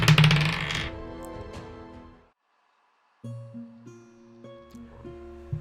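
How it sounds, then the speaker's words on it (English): Plain white polyhedral dice dropped onto a desk, clattering in a loud burst of taps that fades out, then after a short silence a few lighter rattles and knocks as they roll and settle. "You just have to basically drop them onto the desk and they'll roll for you."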